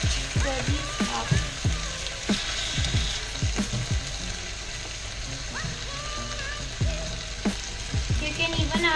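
Chicken sizzles in a pan after pineapple juice is poured in, with steady frying hiss and crackle close by, broken by repeated scraping, clicking stirs of a utensil against the pan.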